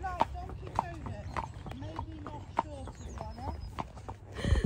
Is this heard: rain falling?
no